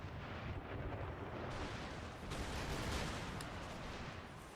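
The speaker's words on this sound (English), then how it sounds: "Cannon. Canister shot." Cannon firing canister shot in the video game Empire Total War, with a dense, roaring wash of battle noise and overlapping blasts that stays loud and continuous with no voices.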